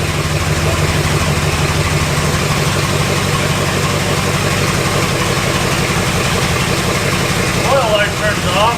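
A long-abandoned Mopar car engine idles steadily after more than twenty years off the road, giving a continuous low rumble and vibration throughout, close and fairly loud, with a brief higher whine near the end.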